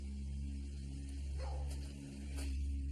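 A dog abandoned inside a house barks a few short times, muffled and distant beneath a loud steady low hum.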